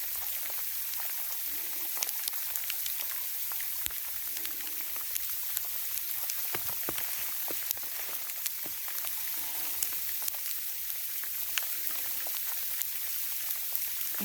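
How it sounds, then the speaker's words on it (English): Rain falls beside a creek in winter, a dense, steady hiss with scattered close drips and taps, moderately loud and continuous, with no one talking. "Right now it's more of a rain."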